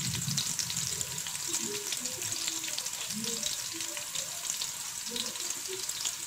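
Chopped onion browning and sizzling steadily in a hot pan of oil, a dense continuous frying hiss with faint bubbling pops, close and alone without talk.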